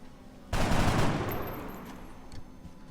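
A rifle shot cracks out during a tactical battle in XCOM: Enemy Within, a single loud blast with a brief burst of follow-up fire, then a decaying rumble and quiet game ambience.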